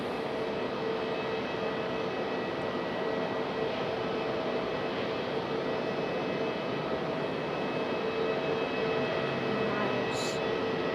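A JetBlue jet airliner moves at Raleigh-Durham airport, its engine noise a steady, moderately distant broadband rumble with a constant whine running through it.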